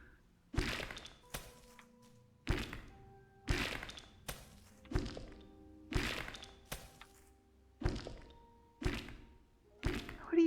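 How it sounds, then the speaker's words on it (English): Mining in the video game Garden Paws: a pickaxe strikes rocks about a dozen times in a loose rhythm, each a sharp, hollow thunk followed by a brief ringing tail, with quiet gaps between. "Well, eventually I'm going to hit the rock I'm aiming at."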